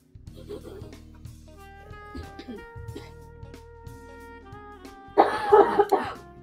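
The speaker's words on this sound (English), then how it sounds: "The coughing was perfect." Several coughs and throat-clearing noises recorded close to the mic, scattered over a sustained tonal hum, ending in a louder, harsher burst of coughing.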